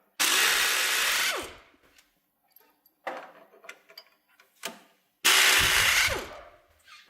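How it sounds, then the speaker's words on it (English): Power tool, likely an impact gun with a 15mm socket, removing the two lower strut mounting bolts on a GMC Yukon Denali; two loud, close whirring bursts of about a second each, separated by quieter clinks and handling noises. "We're going to remove the 2 lower strut mounting bolts, 15mm socket."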